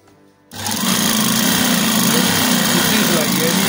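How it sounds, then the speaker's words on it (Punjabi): A sewing machine stitching langot cloth starts up abruptly after a brief quiet moment, then runs in a loud, continuous whirring chatter close by. "ਇਹ ਆਪਾਂ ਸਿਲਾਈ ਮਾਰਨੀ ਸ਼ੁਰੂ ਕਰ ਦਿੱਤੀ ਆ"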